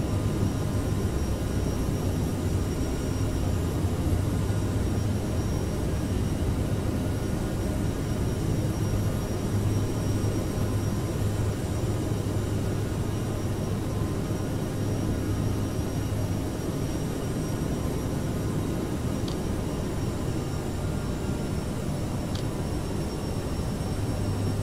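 The Aerosoft CRJ jet in Microsoft Flight Simulator roars steadily through its takeoff, a constant loud engine drone with low rumble and faint high whine that holds evenly throughout.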